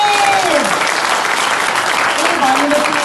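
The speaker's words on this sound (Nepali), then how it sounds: "हाम्रो परमेश्वरलाई ताली" A congregation at a Christian worship gathering claps for God, dense continuous applause close by with voices calling out over it.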